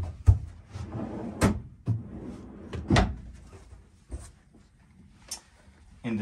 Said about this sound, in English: big drawers, two of them.